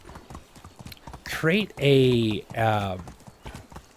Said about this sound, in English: the horse is neighing too much